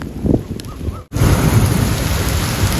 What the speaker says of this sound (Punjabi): ਫੁੱਲ ਜ਼ੋਰ ਨਾਲ ਮੀਂਹ ਸ਼ੁਰੂ ਹੋ ਗਿਆ ਹੁਣ ਦੁਬਾਰਾ